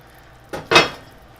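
A utensil knocks twice against the pot of beef stew, two quick metallic clinks close together, the second louder, alone against a quiet background.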